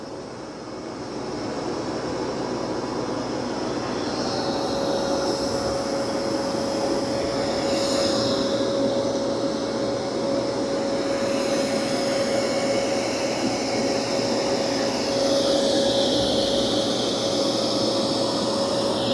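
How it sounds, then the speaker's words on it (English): A Dreame X60 Max Ultra robot vacuum working across carpet to clean up a coffee spill hums with a constant, loud, even whir and a faint steady whine, running without pause. "it's doing a good job of vacuuming. That's a really tough coffee spill."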